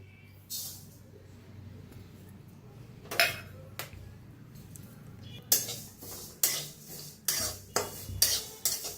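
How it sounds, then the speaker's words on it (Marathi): Sesame seeds dry roasting in a kadhai, quiet at first with a few scrapes, then a run of regular, sharp spatula scrapes and rattles against the metal pan, close and fairly loud. "तर आपण कढाई ठेवलेली आहे, पहिलं तीळ भाजून घेऊया।"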